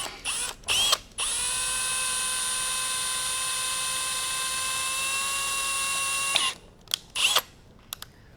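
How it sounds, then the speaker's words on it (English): Dremel rotary tool drilling on a Ferrari 360 Spider during a repair: a steady high-pitched whine holds for about five seconds, framed by short bursts of the motor starting and stopping and small clicks. "Okay, so my first try, I'm gonna drill right here."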